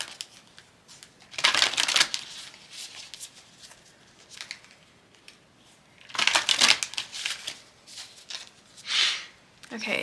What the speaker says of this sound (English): I'm going to shuffle these off camera.